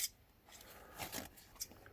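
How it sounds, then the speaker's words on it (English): Scissors snipping off excess tissue paper over a playing card during a craft job, a few quiet crisp cuts and faint paper rustles, close but soft, with no talking. "just get your scissors, just cut off"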